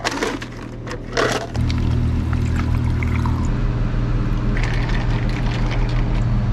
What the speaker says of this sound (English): I just poured way too much of it in here